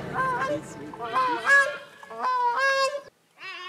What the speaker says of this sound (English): This is the song of the grey-crowned crane, the national bird of Uganda.